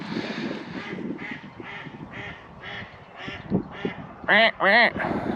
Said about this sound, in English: some ducks about to land